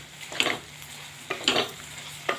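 A spice masala of salt, coriander-cumin powder and kitchen king masala is stirred in a pan for an okra curry, with three distinct scraping strokes over a soft sizzle, close and moderately loud.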